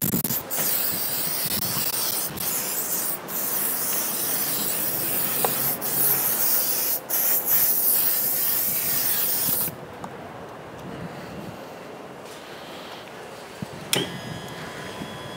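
A hose sprays water steadily to flush a Yamaha outboard motor, a close, continuous broadband hiss with several brief breaks before the flow changes character and grows duller near the end.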